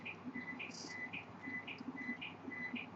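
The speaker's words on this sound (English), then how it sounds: "that's a weird sounding cricket" Cricket chirping in short, evenly repeated bursts, fairly close and steady, with faint background murmur underneath.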